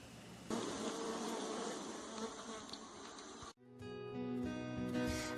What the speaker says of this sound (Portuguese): Observe ali as abelhas coletando o mel que derramou pela colônia.